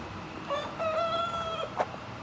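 A single rooster crows nearby, one long drawn-out cock-a-doodle-doo over faint outdoor background noise.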